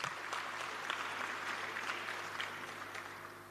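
Audience clapping at an ANC gathering during a keynote address, a soft, fairly distant wash of steady applause with a low hum underneath and scattered sharper claps.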